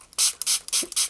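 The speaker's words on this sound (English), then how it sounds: "I'm going to spray something on a fresh" Four quick, close bursts of pump spray onto a fresh cotton swab in a quiet, intimate ASMR exam setting, evenly spaced and crisp, with no talking.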